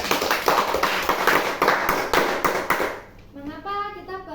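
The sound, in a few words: class clapping for a classmate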